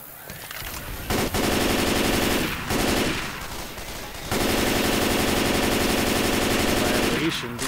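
M16 rifle fire in the Left 4 Dead 2 zombie shooter game, loud rapid automatic bursts with short pauses between them, close and harsh, with brief voices mixed in.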